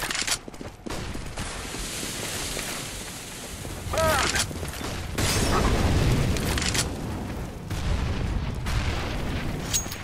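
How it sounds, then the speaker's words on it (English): A flashbang grenade thrown and detonating in the video game CS:GO, a broadband burst and following boom amid ongoing game noise, with brief speech-like sounds layered on top. "Throwing a flashbang."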